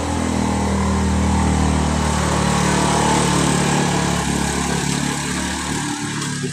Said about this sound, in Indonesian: Iklan ada motor lewat.